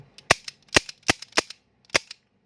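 Five sharp gunshots from a Smith & Wesson .38 revolver, fired singly with uneven gaps, each a loud close crack with a short decay and no talking.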